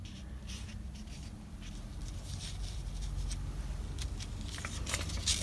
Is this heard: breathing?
no